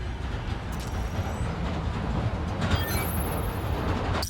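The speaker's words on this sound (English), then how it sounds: "I have to wait for the train to go by again." A train rumbles past in the Spider-Man Miles Morales game, a steady low roar of wagons with faint high metallic squeals rising near the end.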